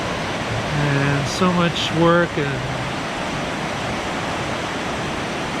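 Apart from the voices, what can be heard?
river flowing beneath an abandoned rail trestle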